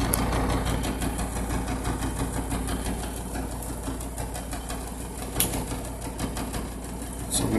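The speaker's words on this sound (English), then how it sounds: "I was trying to stay away from the air conditioner since it's so loud," A loud air conditioner runs steadily throughout, a constant mechanical drone with a low hum and faint intermittent clicks on top, no talking.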